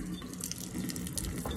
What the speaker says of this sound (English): And then the water starts flowing above.